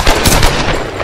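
Gunfire from a weapon in the video game Tomb Raider: Definitive Edition, a loud, close burst of several rapid shots cracking in quick succession, with no talk.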